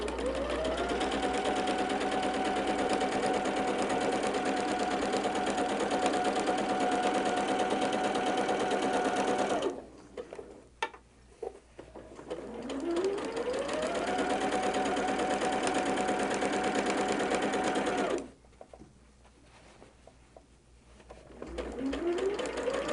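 A sewing machine stitches a quilt seam along the edge of a striped fabric, running in two long steady whirring bursts with a pause between them, close and loud, with a few soft clicks and handling noises.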